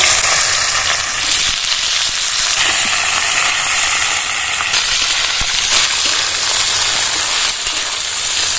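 Bitter gourd and potato pieces frying in a wok with five-spice and dried red chillies give off a loud, continuous close sizzle and hiss, steady with a few brief surges, no voices.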